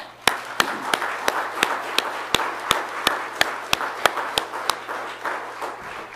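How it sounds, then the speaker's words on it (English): A church congregation claps hands together in praise, sharp claps repeating at a steady, fairly brisk pace over a soft hum of the room, without talk. "I think a lot of times we just need to give the Lord a good hand clap"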